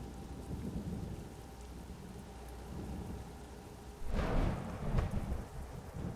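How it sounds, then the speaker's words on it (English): Rain falls steadily in American Truck Simulator while thunder rumbles low, and a louder crack and roll of thunder breaks in toward the end, with no voices. "Finally on the road, enjoying some rain, thunder,"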